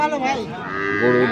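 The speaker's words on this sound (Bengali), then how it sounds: "গরু" A dairy cow of an improved breed moos at a busy village cattle market in Thakurgaon, a single loud, drawn-out low call that fills the moment.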